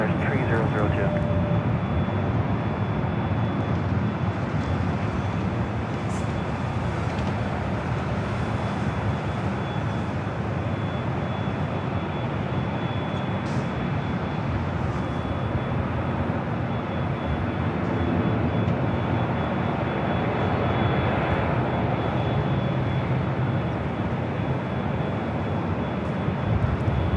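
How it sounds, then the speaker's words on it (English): An Emirates Airbus A380 airliner at LAX fills the scene with a steady, loud jet roar that holds broadband for the whole stretch, with voices talking over it. "There's an A380 right behind us."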